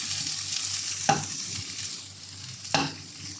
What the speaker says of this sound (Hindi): यहाँ शिमला मिर्ची प्याज भूनते हुए 2 से 3 मिनट हो चुके हैं।